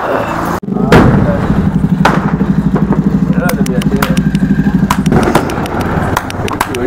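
A long string of firecrackers goes off at home during festival celebrations, a dense rapid rattle of bangs lasting several seconds after a single sharp blast, with people talking over it.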